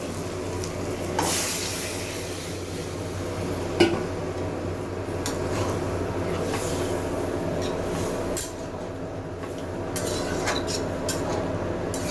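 Boiled sprouted peas tipped into hot oil in a pot for matar ghugni give a steady, even sizzle, broken by a couple of brief clinks or knocks.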